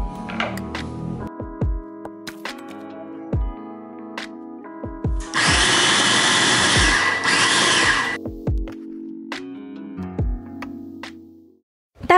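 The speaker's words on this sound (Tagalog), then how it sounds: "ibe-blender lang natin o yung sasalang natin sa food processor ay yung mga laman na pisngi" A food processor whirs loudly through mango flesh (the cheek portions) for about three seconds mid-clip, bracketed by quieter clattering and kitchen handling sounds.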